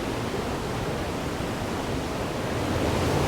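Water pours down a series of cascades into a deep drop, producing a steady, dense, close rushing hiss that stays unbroken and even in loudness.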